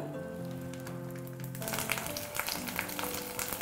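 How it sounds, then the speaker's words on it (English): Pork and aromatics sizzle steadily in a hot pan, a dense crackling fry that grows louder and busier after a sustained tonal hum fades out. "So I'm gonna saute these until it's really dark, almost burnt."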